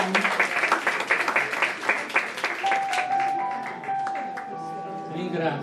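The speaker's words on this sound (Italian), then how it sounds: "un bel applauso per Domenico Mariani" An audience at a poetry book presentation breaks into a burst of hand clapping that fades away after a few seconds, followed by a sustained electronic tone and a room murmur.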